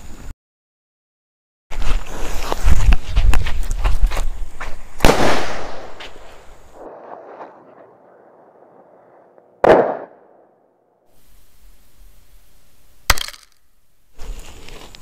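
A small firecracker ball exploding outdoors, a crackling burst of sharp pops and bangs that fades into a hiss, followed by a few isolated loud cracks.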